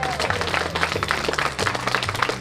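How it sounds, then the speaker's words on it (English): Students give a police officer a round of applause at a school, a dense, continuous wash of many clapping hands with faint voices mixed in. "Can you give him a round of applause?"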